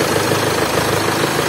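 A Range Rover engine idles loud and close, a steady, even mechanical hum with a faint rhythmic pulse and no voices.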